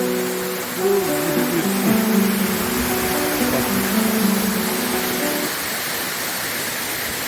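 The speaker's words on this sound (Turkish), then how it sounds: "Bir şelale" Steady broadband rush of a waterfall near a stone house in Suçıktı, Gönen, Balıkesir, loud and continuous, with a faint tonal hum or music over the first five seconds.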